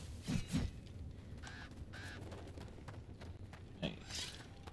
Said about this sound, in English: stupid crows